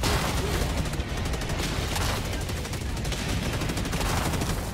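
Dense, continuous gunfire from the game Helldivers 2, with rapid overlapping bursts that sound like machine-gun fire and booms. It stays loud and close throughout with no pause.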